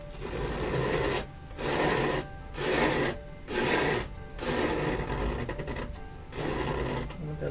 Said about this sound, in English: you can scrape pretty hard, as you can hear on my canvas